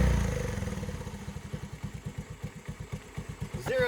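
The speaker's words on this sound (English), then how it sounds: "Zero adjustment and it idles." An old Honda three-wheeler engine idles on its own after a carburetor cleaning, a steady loping chug of evenly spaced thumps, close and fairly loud, ending with a brief higher whine.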